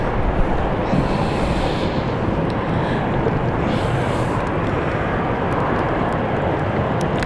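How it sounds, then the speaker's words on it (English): Passenger airliner from Dublin rolling into its stand at London City Airport, a steady broadband engine roar holding loud and constant throughout with faint wind noise over it. "As the Dublin flight comes in and makes its way to the stand"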